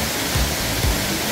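Piano Falls in Samcheok, Korea, a continuous dense roar of falling water with steady loudness and faint low rumbles, no voices.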